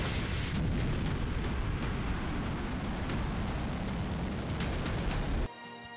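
A North Korean strategic missile test launch gives a continuous, loud, broadband rocket roar that holds steady and then cuts off abruptly near the end.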